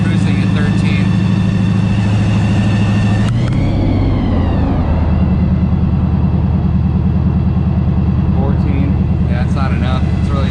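Supercharged NASCAR car engine cruising on the road while not yet tuned, a loud steady droning rumble with a brief rise and fall in pitch partway through, continuous and close throughout.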